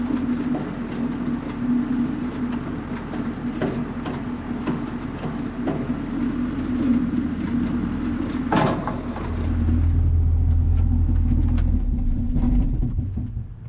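A John Deere 7600 tractor drives at close range, a steady low engine drone running throughout, with a brief sharp clank partway through and a heavier rumble building toward the end.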